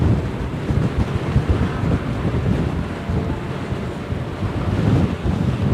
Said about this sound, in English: the wind is getting a lot nastier now